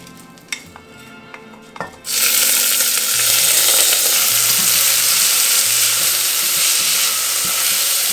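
Rinsed white rice hitting hot oil and stirred nonstop, a few light clinks of a utensil, then a sudden loud sizzle that holds steady and close, with soft scraping strokes running underneath.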